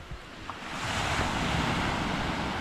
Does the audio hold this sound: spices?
no